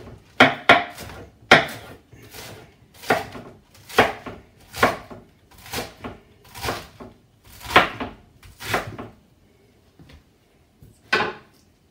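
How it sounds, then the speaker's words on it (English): A knife cuts through a head of romaine lettuce in a series of crisp, close cuts. The strokes come in quick bursts and then slow to irregular single chops, with a pause before a last cut. "Easy way to cut romaine, start at the top, go through the middle, flip, go through the tops again"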